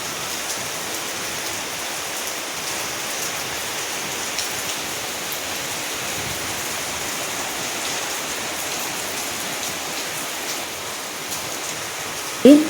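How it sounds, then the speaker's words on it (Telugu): Steady rain falls in a village on a festival day, an even, dense hiss of drops on surfaces that continues unbroken throughout, ending with a brief knock. "ఈరోజు కూడా నాగుల చవితికి మా ఊర్లో అయితే వర్షం అయితే కురిసిందండి"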